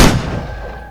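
A single loud gunshot sound effect cracks out sharply and then fades in a short echoing tail.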